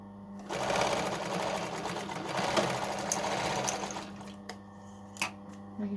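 A sewing machine stitches outer hood pieces for a hoodie with a 1.5 cm seam, whirring steadily and close for several seconds before slowing to a few short bursts and soft clicks, with no talk.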